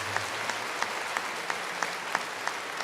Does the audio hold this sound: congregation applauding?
yes